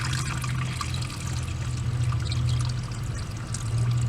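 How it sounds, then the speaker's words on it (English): Water is poured into the radiator of a 2000 Ford Mustang V6 3.8L during a radiator flush, a steady trickling stream running for about four seconds at moderate level, with no voices. "Now I'm going to start adding my water."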